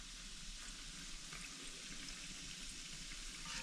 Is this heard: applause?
no